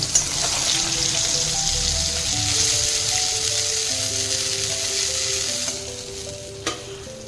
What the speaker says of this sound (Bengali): আমি এইভাবে সব মাছগুলো ভেজে নেব।